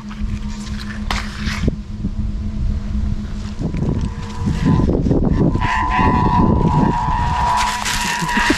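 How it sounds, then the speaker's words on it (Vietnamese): Strong northeast wind roars and buffets the microphone during kite flying on a rainy day, a loud continuous rumble that swells to harder gusts midway. "Mà là gió quá kinh khủng."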